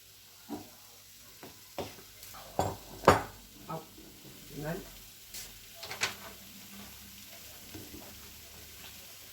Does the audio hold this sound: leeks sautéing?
yes